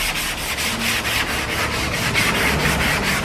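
A hand rubbing back and forth over a sanded car body panel with a paint finish, producing rapid, regular dry scratchy strokes, close and steady with no talk.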